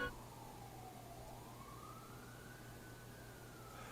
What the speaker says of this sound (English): as soon as I started talking about this, I started hearing sirens in the background.